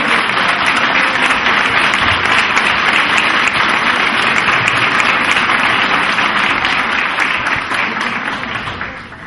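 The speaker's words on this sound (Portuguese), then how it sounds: "Aplauda o Senhor." A church congregation claps together in sustained, dense applause, loud and close, easing off slightly toward the end.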